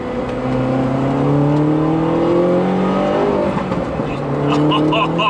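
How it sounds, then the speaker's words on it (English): A tuned 288 bhp R56 Mini Cooper S accelerates loudly, its engine note rising through the revs before an upshift brings a few crackling exhaust pops near the end. "It pops on the upshift"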